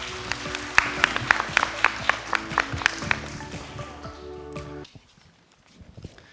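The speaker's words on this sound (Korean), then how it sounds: "약 1시간이 넘는 시간 동안 고생해 주신 김난희 자장님과 발제자들에게 큰 박수 부탁드립니다." Applause at a youth volunteer forum in Goyang: rhythmic claps at a moderate level over a low hum, thinning out and then stopping abruptly near the end.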